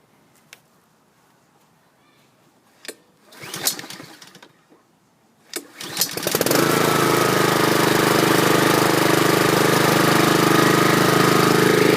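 A small gasoline engine on a 2011 Troy-Bilt push lawn mower with a Honda engine starts after a few rattles and pulls, then runs loud and steady, close by.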